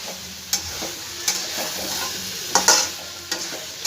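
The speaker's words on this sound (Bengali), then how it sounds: "ভালো করে একটু এঁচড়ের সঙ্গে মশলাটা কষাই" Young jackfruit stirred with spice paste in a hot pan, with spatula scrapes landing in uneven strokes over a close, continuous sizzle and no voices.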